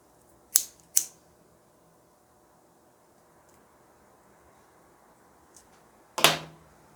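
Scissors snip through leftover yarn ends on a crocheted bag: two quick close clicks, a long quiet pause, then a louder sharp snip near the end, with no talking.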